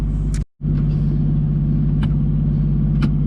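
A car engine idles with a steady low rumble ahead of a donut, loud and continuous apart from a brief dropout early on, with a few faint clicks over the top.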